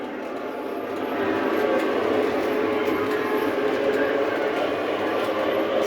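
Model trains run on a Halloween layout in York, a continuous rolling rumble with a faint rhythmic clatter that swells slightly after the first second and holds steady.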